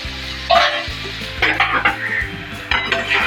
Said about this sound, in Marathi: हा दोन तीन मिनटात दोडका शिजून तयार होतो